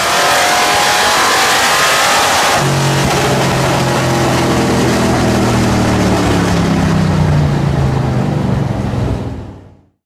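A loud short-course race truck engine revs hard and drones steadily, its pitch sliding as it accelerates, with a raspy Borla exhaust roar throughout that cuts off at the end.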